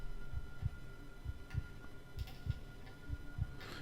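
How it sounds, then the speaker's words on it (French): A heartbeat sound effect from Syrinscape throbs in a slow, even double-thump rhythm, about six low beats over a few seconds, faint and steady over a soft background hum. "battement de cœur également"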